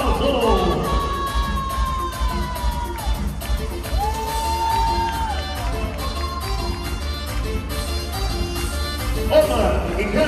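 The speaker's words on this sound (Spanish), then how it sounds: "ese fuerte aplauso" A quinceañera crowd claps and cheers continuously, with whoops and shouts rising over a steady roar of applause and chatter.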